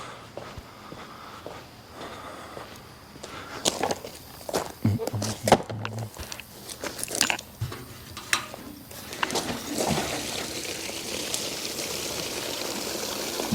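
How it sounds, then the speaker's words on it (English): Old fuel pours and splashes out of a container in uneven gushes, with thuds of giant chunks dropping and some handling noise along the way. "Pour the rest of this fuel out and see how it looks."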